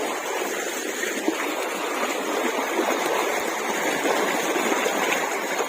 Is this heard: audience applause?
no